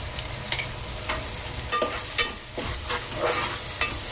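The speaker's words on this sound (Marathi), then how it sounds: "चांगलं परतून घेते सगळं" Rice and moong dal with tomato, turmeric and a stock cube being sautéed in a pan, with a steady sizzle and several sharp scrapes of a spoon against the metal, close and alone.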